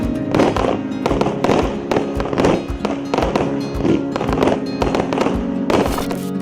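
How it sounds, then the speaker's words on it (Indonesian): A string of 100 to 200 linked fireworks pops in a rapid, unbroken chain of sharp, loud, close explosions, each burst following right on the last. "Kembang api ini menghasilkan letupan kembang api yang berderet dan terus-menerus"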